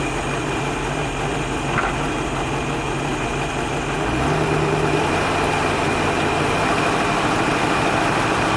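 A Marada boat motor idles steadily and fairly loud, its low rumble holding constant before a slight shift in tone about halfway through as it is shifted and cut off.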